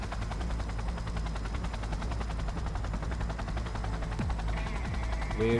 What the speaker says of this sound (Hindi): Wait for the helicopter to descend.